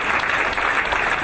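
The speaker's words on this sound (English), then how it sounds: "We should clap more." Congregation clapping during a church service, a brief, dense, continuous wash of many hands applauding together, loud and close.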